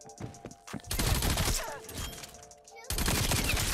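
Rapid gunshots from a Vargo 52 rifle in Call of Duty Cold War, loud dense bursts of automatic fire broken by a short pause, with a voice speaking in between.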